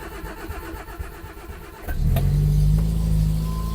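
A carburetted car engine cranks with the choke out, a couple of seconds of starter churning before it catches and settles into a loud, steady low idle close by.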